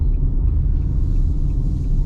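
Fiat Argo 1.3 CVT Trekking 2023 car engine pulling uphill, a steady loud low rumble with constant road and cabin drone throughout, no speech heard.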